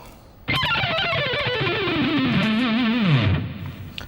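A fast electric guitar run played up to speed with distortion, a loud descending line of quick notes that sounds alone for about three seconds before cutting off.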